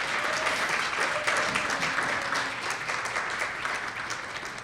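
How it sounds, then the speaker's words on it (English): An audience at an awards ceremony applauds in a dense, steady round of clapping that stays loud for several seconds and then tapers slightly. "I just want to give a round of applause to Judy, who does all the hard work in this."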